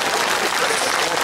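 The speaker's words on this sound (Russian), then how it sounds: "Аплодисменты вам." Dense, steady applause from a festival audience at a song concert honoring a bard, a continuous even wash of clapping with no voices over it.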